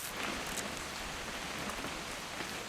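Rain falling in What Remains of Edith Finch, a dense unbroken patter and hiss of drops on surfaces, steady and enveloping for the whole stretch with no voices.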